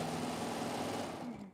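A sewing machine stitching a neckband onto a T-shirt neckline, a steady close whirring hum in one short spurt that slows and stops at the end.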